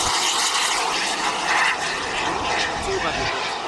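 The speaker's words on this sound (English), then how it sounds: "This just is one of the most menacing aeroplanes you will ever see." A military jet at an air show over a former RAF airfield at Elvington in Yorkshire gives a loud, steady broadband roar that holds without a break throughout.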